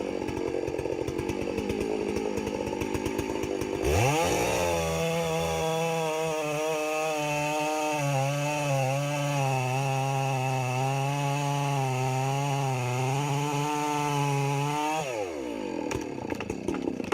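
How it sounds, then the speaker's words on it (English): A chainsaw cuts into a big tree, revving up sharply and then holding a loud, steady, buzzing drone for about eleven seconds before dropping off, with quieter idling before and after. "A chainsaw is a powerful tool that can cut through wood quickly and efficiently."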